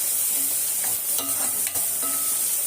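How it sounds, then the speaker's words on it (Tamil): Liver and onions sauté in a pan, a continuous close hiss of frying with soft scraping stirs of a spatula. "நல்லா அரை வேக்காடு வதங்குற வரைக்கும் நல்லா வதக்கணும்"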